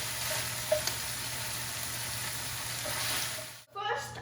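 Beef seasoned with Tex-Mex spice and cumin sizzles steadily in a hot pan while being stirred, a close, continuous frying hiss with a brief scrape and a sudden drop near the end.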